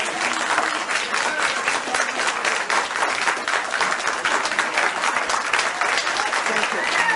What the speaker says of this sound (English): applause till the end.